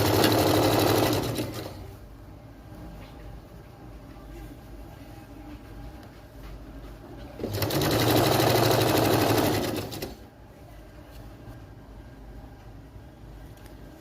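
A sewing machine stitching the bottom hem of churidar pants runs in two fast whirring bursts separated by quieter gaps, heard up close with no talking.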